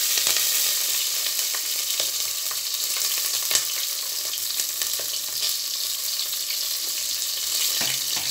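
Green chillies sizzling in hot oil alongside dried red chillies and bay leaves, a steady bright hiss and crackle with small pops throughout, close and fairly loud with no talking.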